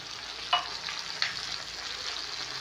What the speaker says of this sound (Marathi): त्यालाही असं अलटल पलट आपण 1 मिनिट शिजवून घेऊ।